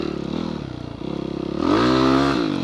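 A trail motorcycle engine idles with a steady pulsing chug, then the throttle opens and it rises to a louder, higher revving drone before easing back, heard up close on a night trail ride.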